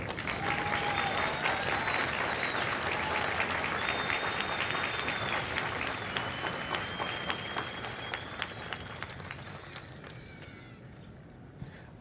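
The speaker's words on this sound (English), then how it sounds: "please join me in a round of applause for the company staff of Company M." Large audience applauding at a Marine Corps recruit graduation ceremony at MCRD San Diego, a dense, sustained roar of clapping that slowly tapers off toward the end, with a few shouts rising above it.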